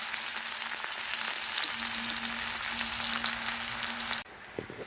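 Chopped onions and green chillies fry in hot oil with mustard seeds, cumin and turmeric, a loud, dense, close sizzle that holds steady for about four seconds before dropping away abruptly.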